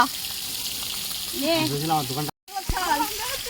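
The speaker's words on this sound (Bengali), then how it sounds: "দুকলা মাছ ভাজা হচ্ছে" Fish sizzles steadily in hot oil, a continuous crackling hiss, with someone talking over it and a brief cut in the middle.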